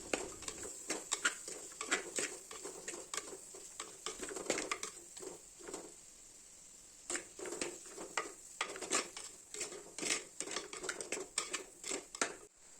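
Spices with coriander powder being sautéed in a pan for an anchovy curry: repeated clinks and scrapes of a spoon stirring against the pan in irregular bursts, with a short quiet pause midway, close and fairly faint.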